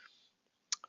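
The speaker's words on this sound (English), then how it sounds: "if let's say I click on the get started button and click inspect" Two quick, close computer mouse clicks on a web page button, a crisp pair of faint ticks coming after a short stretch of near silence.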